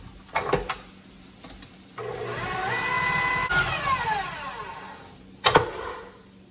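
Sun-dried tomato oil sizzling in a pan, a steady frying hiss that rises after a couple of clattering knocks, with more utensil clanks near the end.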